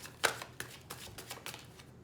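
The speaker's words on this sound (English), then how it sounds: "Last shuffle, and I take from the middle." Tarot cards being shuffled by hand: a quick series of soft, dry riffling slaps in an irregular rhythm, close and fairly quiet, with one sharper snap near the start and no talking.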